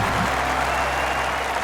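A golf crowd in an EA Sports golf video game bursts into loud, dense, continuous applause at Banff Springs, a steady wash of clapping with no gaps.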